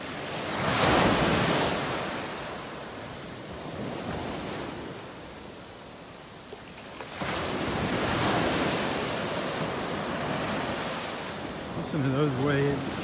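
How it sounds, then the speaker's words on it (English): Ocean waves wash onto a beach in North Naples, Florida, the surf swelling and receding in broad rushes with wind buffeting the microphone. "Listen to those waves."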